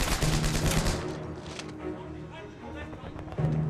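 Gunfire in a WWII battle, loud and near, with dense bursts of shots and rumbling blasts in the opening second that ease into a continuous roar, then another sharp burst at the end.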